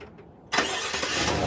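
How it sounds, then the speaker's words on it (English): A 2019-2021 Chevy Silverado engine starts by remote start. There is a brief quiet lead-in, then a sudden loud crank that catches and settles into a close, steady idle roar. "I'm going to try a remote start."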